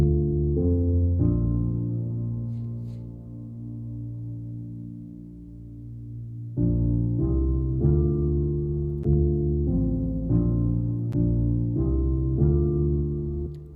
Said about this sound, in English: it sounds really like really warm and soft, and you could also hear the harmonics of the piano coming out